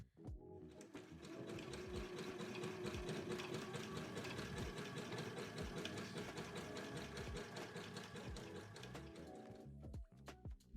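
A domestic sewing machine runs steadily, stitching a zigzag on a jersey neckband: a fast, even mechanical whir and rhythmic needle clatter held for about nine seconds, close and clear, stopping near the end with a few soft clicks.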